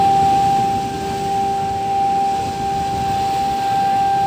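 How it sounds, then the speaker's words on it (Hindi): Siren sounding at a flag raising at Kanyakumari, India: one steady, loud, sustained tone held without a break over a low background rumble, with no talk. "अगर कोई सायरन टाइप का आवाज़ दे रहा है"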